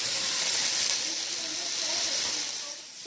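Chopped tomatoes hitting a pan of light-browned onions for a mixed vegetable sabzi, giving a steady, close sizzle and hiss that holds evenly and eases slightly at the end, with no talk.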